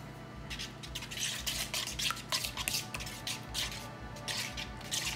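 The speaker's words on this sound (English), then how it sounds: "and we whisk it." Eggs are whisked briskly in a bowl, producing rapid, rhythmic clinks and taps of the whisk against the sides that keep up steadily throughout.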